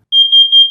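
A smoke detector gives one loud, sharp, high-pitched electronic beep, steady and close, cutting off abruptly.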